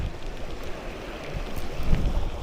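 A fishing boat rides rough, choppy sea off Pulau Jemor near Jeram, with a steady engine drone under wind buffeting and splashing that swells louder toward the end.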